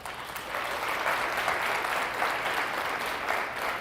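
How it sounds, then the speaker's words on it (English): Steady applause from an audience at a fundraiser breakfast for a food pantry, honoring volunteers; even, sustained clapping across the room with no break, moderately loud and fairly distant. "can we give our volunteers a big round of applause?"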